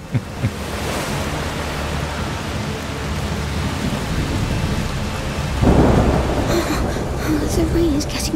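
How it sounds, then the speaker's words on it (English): Thunderstorm with heavy rain in the video game A Plague Tale: Requiem, a constant wash of rainfall with rolling thunder rumbles, while characters talk over it. "The rain is getting worse."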